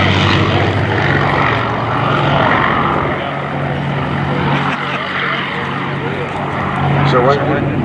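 World War II propeller fighters form up for a missing man flight at an airshow, their engines droning loudly and continuously throughout, with the tone shifting slightly as the planes move.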